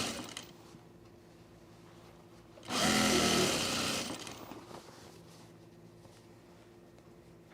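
A Juki 8700-7 electronic sewing machine stitches toward a waistband in one loud burst of about a second and a half, rising sharply from a quiet room and then dropping away.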